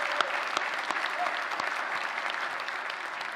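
Graduates at a continuing education and health school convocation give themselves a round of applause, a sustained, fairly soft spread of clapping from a large crowd with a few sharper claps standing out.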